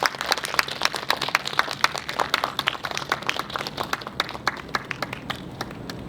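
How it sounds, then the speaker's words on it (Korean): A small gathering claps after a cake cutting at an opening ceremony, distinct individual claps close by in a quick, uneven patter with no talking over them. "큰 박수 부탁드리겠습니다"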